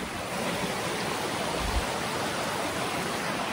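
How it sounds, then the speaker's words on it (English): A waterfall pours steadily along a hiking trail, its broadband rushing roar constant and fairly close for the whole stretch, with no voices over it. "Pretty waterfall."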